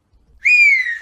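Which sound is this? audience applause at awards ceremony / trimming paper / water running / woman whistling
woman whistling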